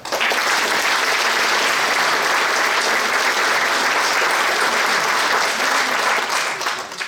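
Audience applause at a Slovenian local event about old crafts in Tržič, a dense, steady wash of clapping hands that holds strong for several seconds before tapering slightly.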